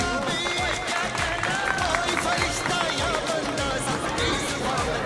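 Applause rises from an audience at a school annual function, steady clapping under a lively crowd murmur, with a voice speaking over it and music-like tones running through.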